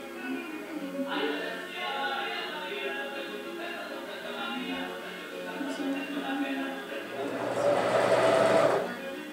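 Sewing machine stitching a neck moño, a quick mechanical whir of needle strokes running under steady talk, rising louder in a brief burst near the end.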